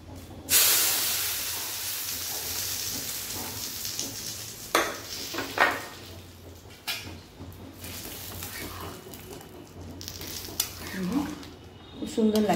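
Hot sambar tempering with curry leaves poured into a pan sends up a loud burst of sizzling and hissing that fades into softer crackling and stirring, with occasional utensil clinks.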